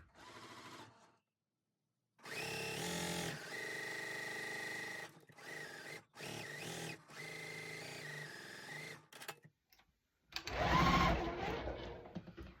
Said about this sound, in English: So I need to sew a 1/4 inch on each side of that line.